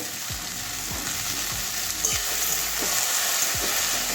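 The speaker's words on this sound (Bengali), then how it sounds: "আবারও ভালো করে মিশিয়ে দিচ্ছি" Okra frying in a pan with a dense, continuous sizzle, overlaid by soft regular stirring strokes about every half second, close up.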